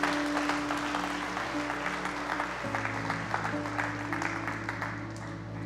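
A church congregation breaks into sustained applause, a steady crackle of many hands clapping over held keyboard or organ chords, with no one speaking.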